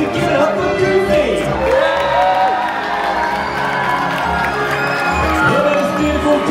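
Applause and cheering from a large crowd, children's shouts and whoops mixed in, fill the air for Goofy at a character show aboard the Disney Dream cruise ship, loud and unbroken.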